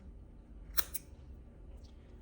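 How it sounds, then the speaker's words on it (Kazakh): Fabric pieces for a sewn peplum are cut with scissors: two quick crisp snips close together, then a faint later rustle, against a quiet room background. "Осылай 3 штук қиып аламыз."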